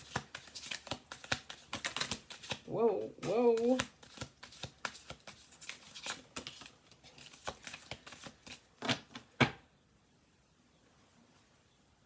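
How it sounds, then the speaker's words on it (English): A deck of tarot cards is shuffled in quick riffling bursts, close and crisp, with soft speech between the shuffles. "One more shuffle."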